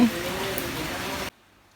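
Steady rain falling outdoors during a rainy day in Vientiane, Laos, a dense continuous hiss that cuts off abruptly near the end.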